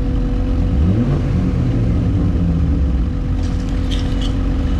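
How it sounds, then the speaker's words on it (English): A car engine revs at Santa Pod Raceway during a fast-car show in heavy rain, with a close, steady rumble and a couple of rising throttle sweeps over continuous background noise. "Let's see if we can get him to rev it by revving ours."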